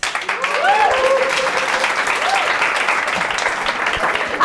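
Comedy show audience in London applauding and cheering during crowd work, a dense steady wash of clapping with whoops rising over it for the whole stretch.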